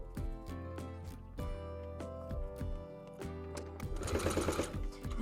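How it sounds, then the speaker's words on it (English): A sewing machine runs in quick bursts, stitching a 3-step zigzag topstitch on thick swimsuit fabric, its rapid mechanical chatter starting and stopping between short pauses. "I'm using the 3-step zigzag for the top stitch."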